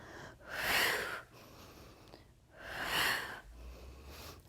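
Two long, loud, breathy exhalations with a soft inhale between them, close and rhythmic, during a Pilates mat double leg stretch done without props.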